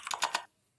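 A quick burst of three or four crisp mechanical keyboard keystrokes, close and clicky, then silence.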